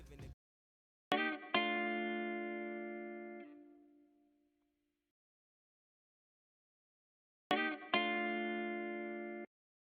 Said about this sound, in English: then I sampled this electric guitar right here.